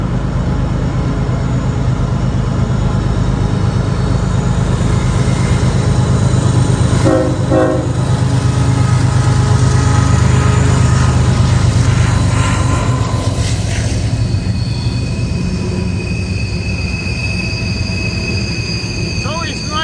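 A heavily loaded six-engine CSX freight train rolls past with a loud, constant rumble and wheel noise, and its horn sounds in a couple of blasts partway through. Voices can be heard faintly beneath the train.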